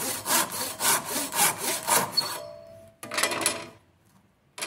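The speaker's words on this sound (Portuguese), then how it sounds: "Segura e faça o corte com serrote." A handsaw cuts through a wooden dowel in a series of rhythmic back-and-forth rasping strokes, loud and close, then stops. A brief scrape follows after a short pause.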